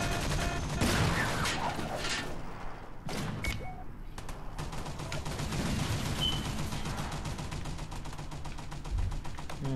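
Rapid gunfire, machine-gun bursts and thudding artillery fire from the Toy Soldiers War Chest battle game, dense and continuous at close range throughout, with no talk.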